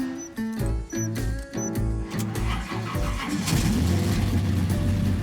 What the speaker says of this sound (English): Engine is not quite happy with the new carburetor.